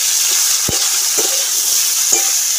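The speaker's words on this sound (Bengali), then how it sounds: "তেল গরম হয়ে গেছে, এবার আমি তেলের মধ্যে ফুলকপিটা দিয়ে দিচ্ছি।" Cauliflower frying in hot oil with salt and turmeric, a loud continuous hiss of sizzling with a few brief stirring knocks.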